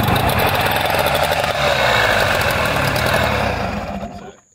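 A jon boat outboard engine cranks, catches and settles into a loud, rough, steady idle close by, then cuts off at the end; no voices.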